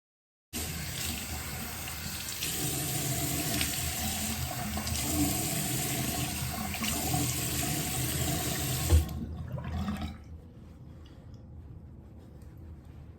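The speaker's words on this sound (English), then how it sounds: "Turn your water off. Don't let it keep running." A bathroom sink tap runs steadily for about nine seconds with a close, even splashing rush, then shuts off, leaving a quiet room.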